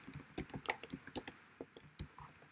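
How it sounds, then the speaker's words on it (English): Keyboard typing at a nail studio, a quick irregular run of clacking keystrokes heard up close with brief pauses and no talking. "Let me type it in."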